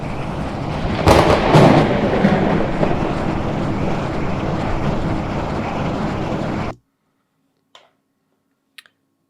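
A deep rumbling thunder-like sound effect, loud and dense with a swelling crack early on, sustained for several seconds then abruptly cut to silence, followed by a couple of faint clicks.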